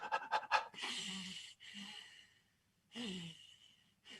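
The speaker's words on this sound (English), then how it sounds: "just put your hand over your mouth and breathe through your nose" Slow, heavy breaths drawn in and pushed out through the nose with a hand cupped over the mouth, giving muffled, breathy rushes with pauses between, close and fairly quiet.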